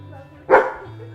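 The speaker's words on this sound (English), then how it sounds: "And our guard dog" A guard dog gives one short, loud bark close by inside a home, rising sharply out of a quiet room hum and fading quickly.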